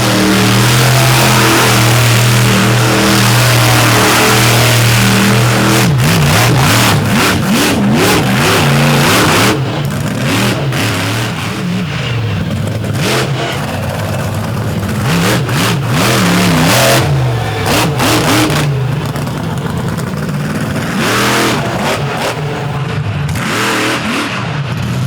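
Monster truck engines rev hard and loud at an Overdrive Monster Truck Tour event, a steady roar giving way to repeated surging revs and throttle bursts over a crowded arena ambience.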